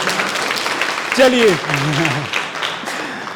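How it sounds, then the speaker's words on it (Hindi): Workshop audience on health and hygiene at a Sanskrit college clapping together, a steady wash of applause running throughout with a voice speaking briefly over it midway. "तालियां बजाइए प्लीज सबके लिए।"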